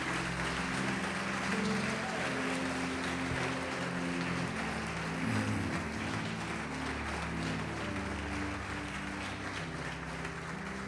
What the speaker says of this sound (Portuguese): Vamos aplaudir o Senhor só para dar uma aliviada.